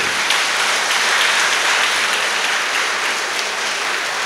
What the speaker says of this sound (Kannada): ಇಷ್ಟು ಚಪ್ಪಾಳೆ ಸದ್ದು ಕೇಳಿದ್ರಲ್ಲ